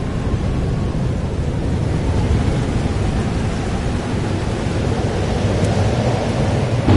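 A thunderstorm in the video game Life is Strange: Double Exposure: a dense, steady roar of rain with low rumbling thunder underneath, loud and continuous throughout with no voices.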